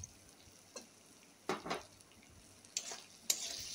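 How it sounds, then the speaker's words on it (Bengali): Dried hilsa fish stir-fried with onion, garlic and green chili, quiet scraping stirs of a utensil in the pan come in short separate bursts over a faint sizzle. "ইলিশ শুটকি আর পেঁয়াজ রসুন কাঁচা লঙ্কা সব একসাথে মিশিয়ে নেব"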